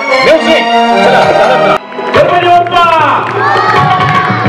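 Loud crowd of children and adults cheering and shouting at a school game event, with applause bursting after a short pause and continuing excitedly to the end.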